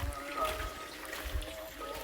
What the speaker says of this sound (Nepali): यहाँ चाहिँ पानी झरिरहेछ